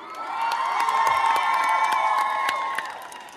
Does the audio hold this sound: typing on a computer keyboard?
no